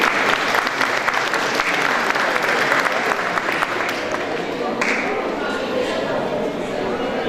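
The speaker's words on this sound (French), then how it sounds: "On peut applaudir l'école de la vigne." An audience at a spring art exhibition opening in Picquigny bursts into sustained applause, a dense, steady patter of many hands that fills the room and tapers slightly toward the end.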